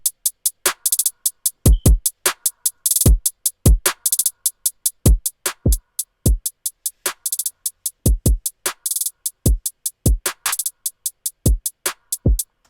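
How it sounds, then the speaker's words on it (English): Dry drum sample pattern with no effect plugin: steady programmed kick, snare and bright hi-hat hits repeating in a tight rhythm, loud and close, with no voices. "this is the sound of the drums by itself without the"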